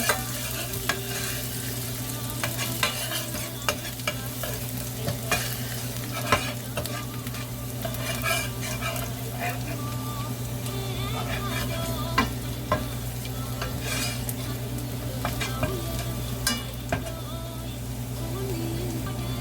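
Onion and garlic fry in a pan for rice noodle gravy (lad na), with a steady sizzle and occasional scrapes of a stirring utensil running throughout, loud and close.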